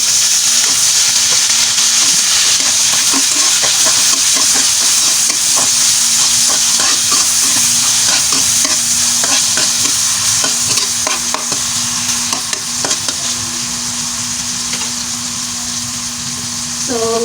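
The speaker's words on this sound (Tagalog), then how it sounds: "So the garlic is brown a little bit, so you can add this onion and tomato." Onion and tomato fry in a pan with browned garlic, giving a loud, steady sizzle broken by repeated scraping stirs that ease off toward the end.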